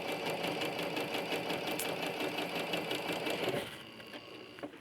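A sewing machine runs a quarter-inch seam joining quilt blocks, a fast even rattling hum for about three and a half seconds before it slows and stops, leaving a few faint clicks.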